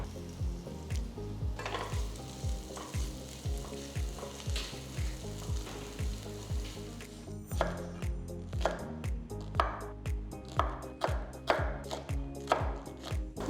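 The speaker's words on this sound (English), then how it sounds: "So I'm cutting the green chillis diagonally for this coconut cream sauce" A knife slices a large green chilli diagonally on a cutting board, with a steady run of close, crisp chops under a constant background sizzle; the chops come quicker and sharper toward the end.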